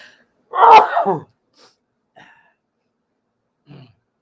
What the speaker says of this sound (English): Let me take some tissue so I can sneeze.